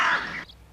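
A single short, harsh crow caw, close and fairly loud, fading out quickly.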